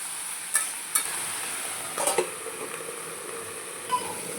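Vegetables fry in a pan with a steady sizzle while a spoon stirs them, giving a few sharp scrapes and clinks spread across the clip; no voices.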